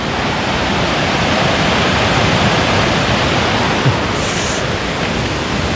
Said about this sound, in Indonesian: aliran sungainya tuh nggak sebesar gini